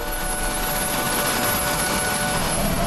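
An RAF rescue helicopter flies at an accident scene, giving a steady, loud rotor and turbine roar with a constant high whine and no voices.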